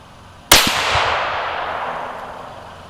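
A .308 Winchester XRS rifle firing a 155-grain BTHP match load: one sharp, loud crack that rolls off into a long echoing decay outdoors.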